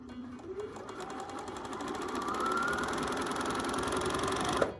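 A Bernina 4, 5 or 7 Series sewing machine runs steadily under foot control, a close, continuous mechanical whir with rapid needle clatter that holds at an even pace for several seconds and then stops abruptly, with no speech.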